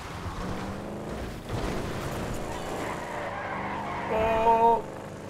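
A car drifting in the video game Grand Theft Auto V, with a steady engine roar and tires skidding across the pavement, rising into a brief, louder tire squeal near the end.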